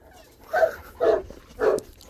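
A Tibetan Mastiff gives three deep, loud barks, close by and evenly spaced about half a second apart, in an otherwise quiet setting.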